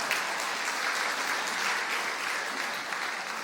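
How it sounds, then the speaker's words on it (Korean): Congregation clapping during a Sunday morning church sermon, a dense, steady round of applause that fills the room evenly from start to finish with no voices over it. "제가 박수 받을 줄은 몰랐습니다."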